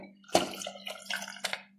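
Water splashes and pours into a pan of jackfruit seed curry in a few short bursts, with wet dripping sounds and a faint low hum underneath.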